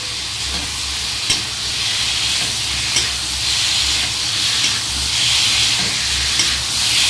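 Potatoes and spices stirred and fried in a pan for a Bengali fish curry, a steady close sizzle with repeated scraping stirs cutting through every second or so.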